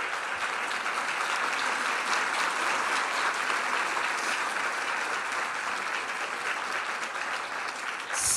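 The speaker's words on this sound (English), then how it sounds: "So please give them a round of applause." An audience gives sustained, dense applause in honour of World War II servicewomen, a loud steady wash of clapping that holds evenly throughout and stops abruptly at the end.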